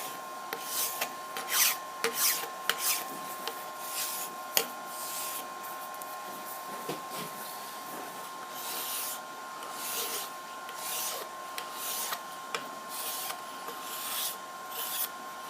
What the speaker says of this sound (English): quick deburr